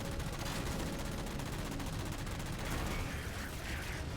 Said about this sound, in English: Luckily, they're pretty fast to kill with the machine gun.